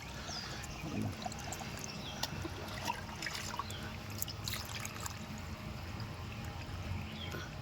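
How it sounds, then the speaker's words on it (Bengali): Water drains through the soil of a rooftop-garden plant pot in a soft, continuous trickle with scattered drips, close and faint. "এই জল নেমে যাচ্ছে দেখুন"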